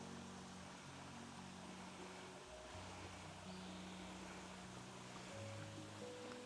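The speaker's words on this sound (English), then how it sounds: "We're at the top of the waterfall now." Garden waterfall flowing beneath Japanese maples, a steady, even broadband rush of water heard continuously and fairly close, with no talk over it.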